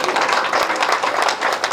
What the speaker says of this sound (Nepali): सबैको लागि ताली बजाउनुहोस्, आफ्नो लागि ठुलो ताली बजाउनुहोस्।